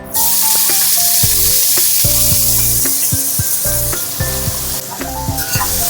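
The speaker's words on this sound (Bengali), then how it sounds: "পেঁয়াজগুলো একটু ভেজে নেব" Chopped onions fry in a pot for egg pulao, giving a steady, loud sizzle for the whole stretch, with melodic background music playing over it.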